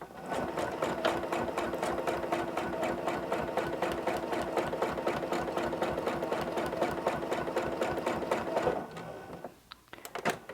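A Janome CM17 sewing machine runs a straight quilting stitch with a walking foot at a 3 mm stitch length, producing a fast, even mechanical chatter for about nine seconds before stopping with a few small clicks.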